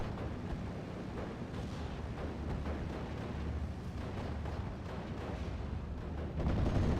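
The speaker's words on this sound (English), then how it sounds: "We got some strafing rounds on this M1 AT gun." Strafing gunfire hits an M1 anti-tank gun in the Steel Division war game, heard as a dense, steady rumble of distant gunfire and battle noise that grows louder near the end.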